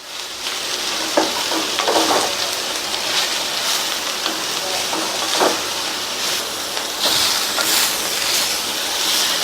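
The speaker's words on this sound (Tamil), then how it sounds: "நல்லா எண்ணெயிலேயே வதக்கி விட்டுக்கலாம்." Ponnanganni greens and onion sautéing in hot oil in a pan, a steady crackling sizzle with occasional scraping stirs, close and continuous throughout.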